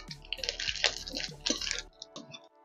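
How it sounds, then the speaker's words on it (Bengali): Whole spices (a dried red chili, two bay leaves, cumin and panch phoron) hit hot mustard oil in a wok, giving quick, close bursts of crackling and spitting that fade into scattered pops. "এবার দেখো ফোড়নে দিয়ে দিচ্ছি 1টি শুকনো লঙ্কা, 2টি তেজপাতা, হাফ চামচ গোটা জিরে"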